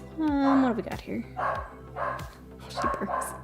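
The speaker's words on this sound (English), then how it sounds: "She barks." A female dog barks close by in a handful of short, sharp, yippy bursts spaced about half a second apart, loud against a quiet indoor background.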